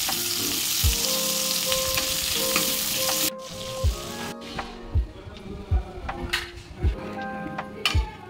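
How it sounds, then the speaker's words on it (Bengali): Spice paste of ginger, cumin, green chili, onion and tomato sizzles and fries in a pan for pabda fish curry, steady hiss at first, then quieter with repeated sharp clinks and scrapes of a spoon stirring against the pot. "তো মশলা কষিয়ে রান্নাটাকে ঢেকে দিলাম"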